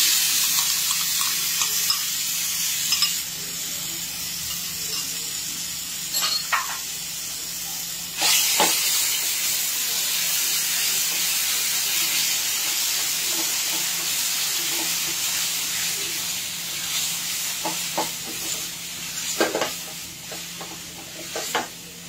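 Spice paste with kasuri methi hits a hot pan on a low flame, giving a steady soft sizzle with scattered crackles and a few sharper clicks of stirring, fairly close and continuous with no talk.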